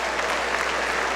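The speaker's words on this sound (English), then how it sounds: "Let's give a round of applause to the graduates of the Bachelor of Science in Policy," A large audience at the USC Price 2019 commencement ceremony applauds graduates with steady, dense clapping. The applause is loud and continuous and fills the hall throughout, with no voices over it.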